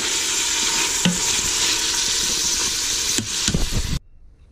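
Beef browning in an Instant Pot, a steady loud sizzle with a few scrapes and knocks of a utensil near the end before the sound cuts off abruptly, with no voices.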